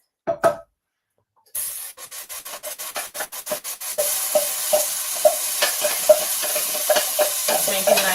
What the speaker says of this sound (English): That's making a nice sizzle.